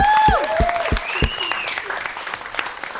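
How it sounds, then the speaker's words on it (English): Applause and cheering for a performer, crowd clapping continuing under whoops and shouting voices near the start, moderately loud and gradually settling. "Let's give her another round of applause."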